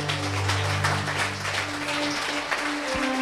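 A church congregation claps and applauds in a dense, steady wash, with low sustained organ or keyboard tones running underneath throughout.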